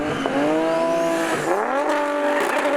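A Nissan GT-R R35 from Precision Racing makes a drag strip pass, its engine note sustained and steadily loud, shifting through rising and falling pitch sweeps with a brief gear change midway.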